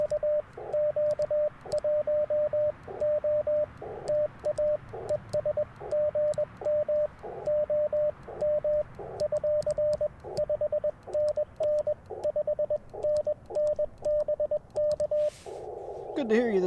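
Amateur radio Morse code: a steady, clear tone keyed on and off in rapid dots and dashes for most of the clip over faint static hiss, ending with a brief tuning sweep.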